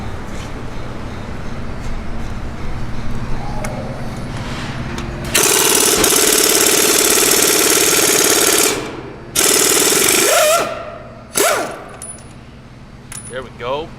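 Loud pneumatic impact tool hammering off an axle nut on a BMW E46 drift car, close up, coming in long rattling bursts with short pauses, over a running engine rumble.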